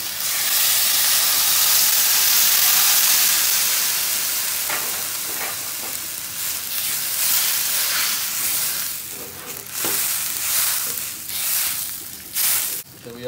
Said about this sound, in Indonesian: Sekarang kita akan masukkan air.